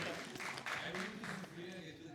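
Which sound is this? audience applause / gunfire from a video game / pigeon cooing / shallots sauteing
audience applause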